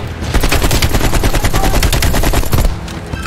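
Rapid automatic gunfire from a gun in the Call of Duty: Cold War video game rattles loud and close in a sustained burst of evenly spaced shots, then breaks off.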